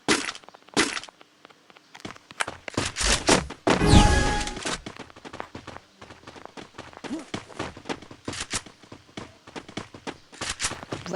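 Rapid cracking gunshots and bursts from a shooting video game, dense and loud, with a heavy flurry of shots around the middle and scattered shots and footsteps continuing throughout.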